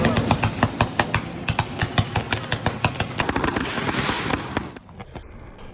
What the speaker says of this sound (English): We have fireworks.